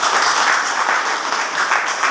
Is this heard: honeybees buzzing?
no